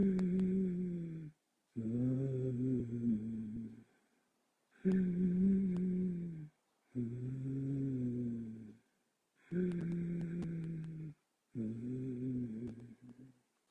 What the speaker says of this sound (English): when you slowly constrict your larynx, Ujjayi Pranayam will sound like a sound of an